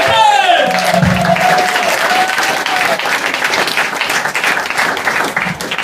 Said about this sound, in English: we need a round of applause